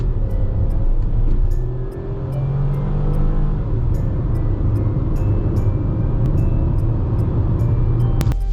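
A crossover SUV accelerates hard on a 0 to 100 run, its engine droning steadily and rising in pitch under loud road and wind rumble from inside the cabin.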